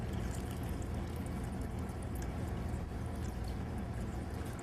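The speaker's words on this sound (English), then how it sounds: "I'm going to add about half of that now." Water from a container of about four cups poured steadily into a bowl of holiday punch, a continuous splashing pour lasting throughout, close and moderately loud with no talk.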